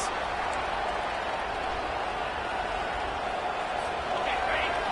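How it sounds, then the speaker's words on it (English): Stadium crowd roaring at a Florida vs Kentucky college football game, a steady, loud wall of cheering and noise that holds without a break, likely rising as the home fans try to rattle the opposing offense. "Listen to this crowd just shaking the girders of this place, trying to help their defense."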